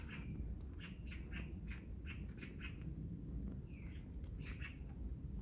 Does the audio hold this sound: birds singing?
yes